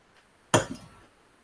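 A single bright clink of glass against glass, close and crisp, ringing briefly before fading into quiet.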